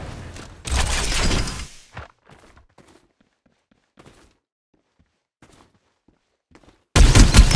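Gunfire bursts in the battle royale game Farlight 84: a loud volley of rapid shots, then near-silence with scattered faint clicks and footsteps, and another loud burst of fire at the end.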